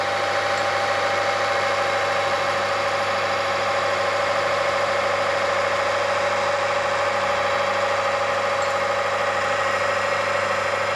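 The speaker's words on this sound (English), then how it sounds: "the machine continues to run smoothly" Timken friction test machine running under heavy load with a tungsten disulfide IF-WS2 oil additive, a continuous, even mechanical hum with a steady tonal whine, close and unbroken with no talk.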